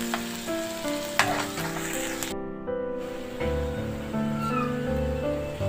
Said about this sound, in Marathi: तेल आपलं गरम झालेलं आहे, त्याच्यामध्ये आपण कांदा टाकून घेऊ। कांदा थोडा वेळ तेलात परतून घ्यायचा आहे।